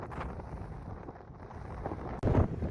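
Wind buffets the microphone on a short ridge hike in Death Valley, a steady low rumbling roar that surges into a louder gust near the end, with no talking.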